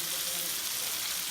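Shrimp simmer in sauce in a pan, giving a brief, even, steady sizzle and bubbling hiss with no voices.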